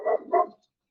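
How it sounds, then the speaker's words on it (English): A dog barking indoors, two sharp close barks in quick succession, then silence, heard alone without talk. "sorry, my dog"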